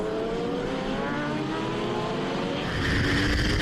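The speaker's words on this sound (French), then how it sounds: "Et un sublime dépassement de Mathieu Charpin à la réaccélération" Racing motorcycles in a Promosports French championship race at the Croix-en-Ternois circuit accelerate hard out of a corner during an overtake, engines rising and growing louder in a continuous, close roar with no talking.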